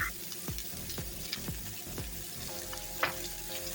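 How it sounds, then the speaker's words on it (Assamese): Onions fry with salt in a wok, a steady hiss and crackle with repeated scraping strokes of a spoon stirring at a regular pace, close and fairly quiet. "পিঁয়াজখিনিত অকণ নিমখ দি অকণ ৰঙাকৈ ভাজি ল'ম।"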